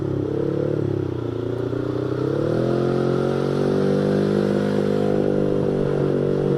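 A Honda Vario scooter engine hums steadily while riding, its pitch rising and settling as it speeds up, with wind and road noise close by.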